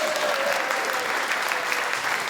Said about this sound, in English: as the audience breaks into spontaneous applause